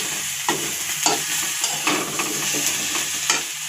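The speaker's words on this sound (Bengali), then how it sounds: "এটা এখন ফ্রাই হবে।" Food with turmeric and salt sizzles steadily in a hot pan, a continuous close frying crackle punctuated by regular scrapes and clanks of a stirring spoon.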